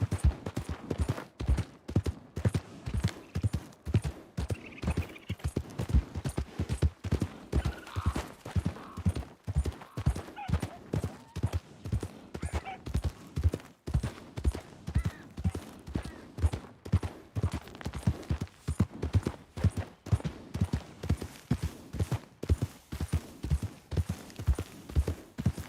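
Horse hooves galloping in the Red Dead Redemption 2 video game, a long steady rhythmic run of heavy thuds, close and even throughout with a faint snort or two mixed in.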